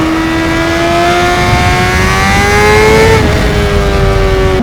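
Honda CBR600RR sport motorcycle at full throttle, a loud high-pitched engine whine climbing steadily, dipping briefly at a shift, then climbing again, close and uninterrupted with no speech.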